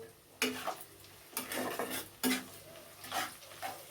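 Onions fry in a pan for Kashmiri chicken kanti, with a low sizzle under several distinct bursts of a utensil stirring and scraping against the pan, close and moderately loud.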